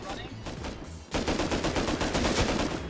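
Rapid gunfire in Rust Console Edition, a dense stream of repeated shots that picks up sharply about a second in and stays loud and continuous to the end, with no talk over it.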